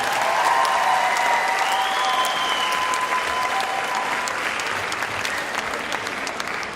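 Dense, steady applause from a theatre audience at a dance studio show, close and full throughout, tapering only slightly toward the end.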